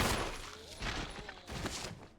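Several gunshots ring out in a survival-horror game, sharp cracks spaced about a second apart, fairly quiet and reverberant.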